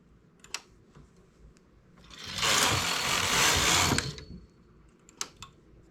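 A knitting machine knitting a strapped dress: a loud carriage pass rushes across for about two seconds, with quieter clicks and clacks of needles before and after.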